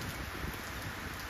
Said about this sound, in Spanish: Ha llovido tanto que ellos se cansaron de mojarse